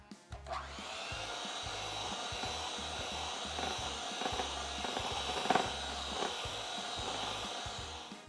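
An electric mixer beats cinnamon banana bread batter, a steady, fairly quiet motor whir running unbroken for several seconds at close range, with no talking.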